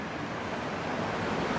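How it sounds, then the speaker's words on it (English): Ocqueoc Falls rushing in winter among ice and snow, a steady, dense roar of falling water with no break, close and fairly loud. "All I hear is waterfall."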